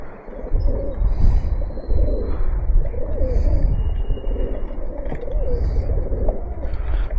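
Pigeons coo in a loft, several soft, low, rolling coos overlapping continuously and close by, with faint chirps and background noise.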